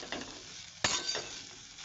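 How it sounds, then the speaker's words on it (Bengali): Soybean chunks frying in a pan make a steady, close sizzle with a quiet stirring scrape and one brief clink of a utensil. "তো এর জন্য সয়াবিনটা আগে ভেজে নিচ্ছি।"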